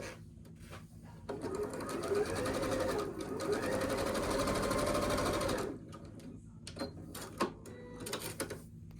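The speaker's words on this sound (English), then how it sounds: "All right, let me go ahead and sew it." A sewing machine stitches a quilt block in a steady, close whirring run for several seconds, then stops, followed by a few handling clicks and light taps.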